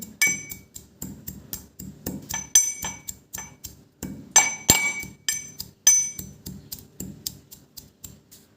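Sesame seeds and chickpeas pounded in a mortar, a steady series of sharp knocking strikes about twice a second with bright clinking rings, close and alone.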